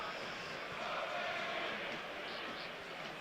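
A football stadium crowd at Arsenal v Burnley reacts to a foul with a broad, sustained roar that hangs at an even, distant level throughout.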